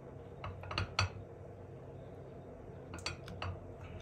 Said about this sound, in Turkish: kapak yapıyoruz.